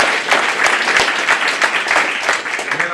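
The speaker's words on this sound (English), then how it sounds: "So let's give them another round of applause." A room of people at a school board meeting breaks into sustained applause, many hands clapping together at close range for several seconds with a slight rise and fall.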